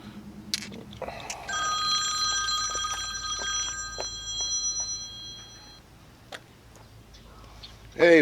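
A telephone rings with a sustained electronic tone in a home garage during repair work on a 2003 Chevy Suburban, steady and fairly loud for several seconds, with clicks and workshop noise around it and a voice briefly at the end.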